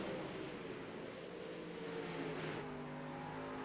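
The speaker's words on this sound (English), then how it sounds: "Patrick Spangler hugging that inside berm, trying to get as much grip as he possibly can to rock it off the bottom side." 360 sprint cars roar around a dirt track at a National Auto Racing Club race, a steady dense engine drone with rising revs from several cars running together, fairly loud and continuous with no talk.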